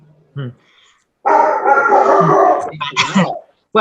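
A large German Shepherd lets out a drawn-out, howling bark between short bursts of human talk, loud and close.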